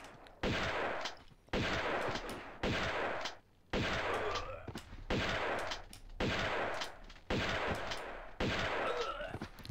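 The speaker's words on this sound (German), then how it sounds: "da habe ich jetzt ganz schön viel Schrotflintenmunition verballert" Shotgun blasts in Tomb Raider 2 fire in a steady rhythm, about one loud, booming shot per second, each followed by a short echoing tail, with no talking.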